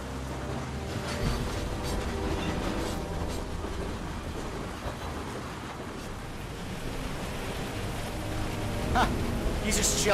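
Train interior in the video game Beyond: Two Souls: a continuous low rumble and hiss at moderate level, with occasional clanks and brief faint voice-like sounds near the end.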